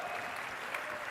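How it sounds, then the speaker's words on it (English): Keynote audience applauding at a Disney Parks livestream presentation of new rides and experiences; about a second of even, moderately faint clapping from a crowd, with no speech over it. "We hold for applause."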